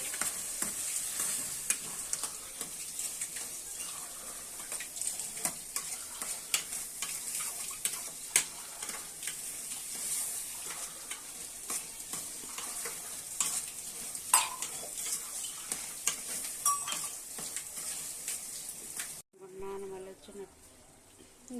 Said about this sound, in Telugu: ఇలా బాగా వేయించుకోవాలి ఆయిల్లోని బాగా వేయించుకోవాలండి